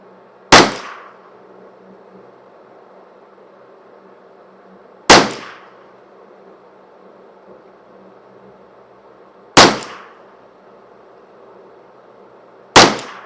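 Ruger 10/22 custom-shop rifle fires four single sharp reports a few seconds apart, each a loud crack with a quick decay over a quiet background.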